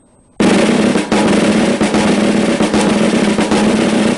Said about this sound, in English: Here's the 10-stroke roll played very closed.